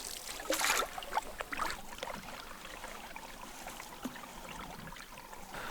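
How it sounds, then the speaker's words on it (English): Canoe paddled across a lake on a Canadian portage route in the afternoon, with faint splashes and water swishes, a few slightly louder strokes early on and then a quiet lapping wash, no talk. "We're paddling into the afternoon."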